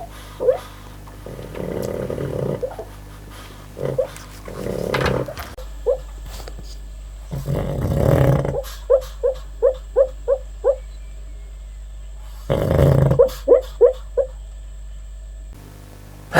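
A sleeping, dreaming dog lets out muffled growls and whimpers, then bursts of short, sharp barks in quick rhythmic runs of five or six, close by and alone with no talk over them.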